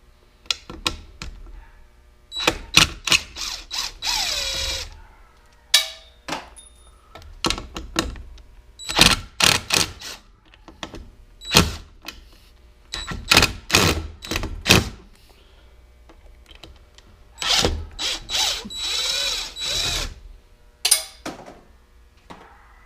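Screws being pulled from garage door framing with a power drill, a string of short whirring bursts and clunks close by, irregular and separated by brief pauses.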